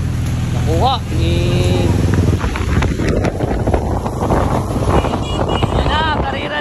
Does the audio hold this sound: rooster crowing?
no